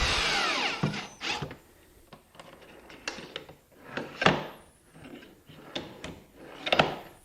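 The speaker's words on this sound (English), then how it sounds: "Using the screws that come with your slides, go ahead and attach the hardware at this time." Screws are driven with a power drill to attach drawer slide hardware in a woodshop, several short whirring bursts separated by pauses, close and moderately loud.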